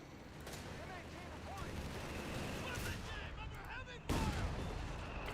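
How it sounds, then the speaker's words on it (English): Battle in the Company of Heroes 3 strategy game, with a dense, continuous din of gunfire and explosions, a few whistling shells overhead and a sharp, louder blast near the end. "Planes in the air, explosions everywhere."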